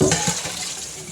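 Water runs steadily from a tap as fish is washed for cooking, a continuous close splashing rush with a few small surges of flow.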